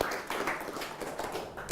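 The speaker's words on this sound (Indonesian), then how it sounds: "kita beri tepuk tangan untuk beliau" An audience at an Islamic religious lecture claps briefly and fairly faintly, with soft, uneven clapping that flares at the end.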